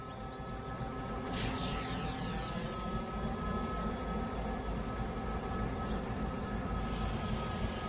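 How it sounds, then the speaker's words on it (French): A train rolls along steadily with a low rumble, while sharp metallic wheel squeals rise twice, loud and close, as it brakes into Dijon-Porte-Neuve station. "Damien commence à ralentir pour s'arrêter à la pancarte TT qui signifie tout train."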